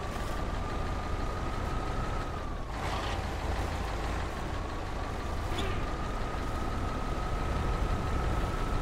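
A heavy truck engine strains under throttle while stuck in SnowRunner, a constant loud drone with a steady whine that dips and rises as the throttle eases off and catches again, with no voices over it.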